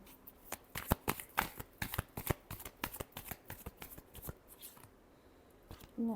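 Tarot cards are shuffled by hand close up, a quick run of crisp riffling snaps and slaps in uneven bursts, quiet overall, with a short pause near the end before one last flurry.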